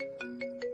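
A phone ringtone trills in steady, evenly spaced pulses, moderately loud and with no voices around it.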